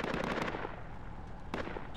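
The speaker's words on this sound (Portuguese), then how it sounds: "Moço, tem tiro pra merda pra cima aqui, ué." Dense gunfire in Project Reality 2, a rapid crackle of distant shots through the first half, fading to scattered reports and a sharp burst near the end, with no voices.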